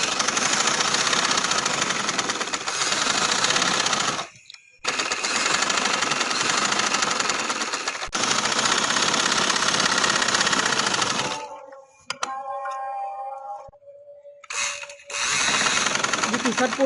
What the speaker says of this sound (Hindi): तो ये ऐसे सिलाई लगा लेनी है।